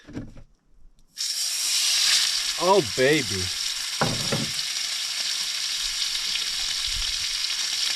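A loud, steady sizzle and hiss of food frying in smoking-hot oil at a Grand Canyon campsite starts abruptly and continues; a voice speaks briefly over it.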